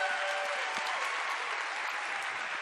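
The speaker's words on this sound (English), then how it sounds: "Please give them a huge round of applause." A large crowd applauds at the Star Wars Champions of Cosplay panel at Star Wars Celebration Orlando 2017, producing a dense, continuous wash of clapping at an even level throughout.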